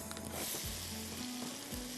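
Onions go into hot oil over already-fried ginger and garlic, with green chilies also going into the pan. The result is a soft, steady sizzle with occasional stirring scrapes, fairly quiet and close, with no talking.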